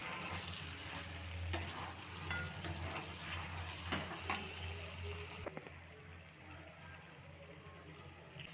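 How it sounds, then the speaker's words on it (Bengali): Hot water is poured into a pan of chicken and potato curry that has been frying, giving a steady sizzle with a low, continuous hiss and occasional clinks of a utensil. "এবার এর মধ্যে গরম জল ঢেলে দেবো।"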